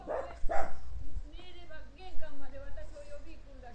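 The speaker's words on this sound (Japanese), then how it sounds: "ワンワンって、犬が可愛いね。" A dachshund gives two quick, close barks at the start, and then people talk over a quiet background.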